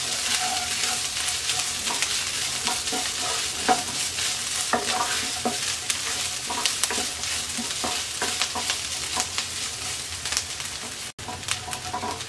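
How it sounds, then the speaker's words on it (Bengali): Chopped onions with green chillies frying in a pan, a steady close-up sizzle with repeated scraping stirs of a spatula over about twelve seconds, no talking. "পেঁয়াজটাকে আমরা 1 মিনিট ভেজে নেব।"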